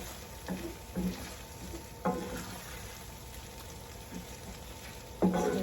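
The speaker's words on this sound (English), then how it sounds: "Stir that all up good" Hamburger and gravy with a spoonful of Worcestershire sauce stirred in a pan, a spoon scraping in short, soft bursts over a faint steady sizzle.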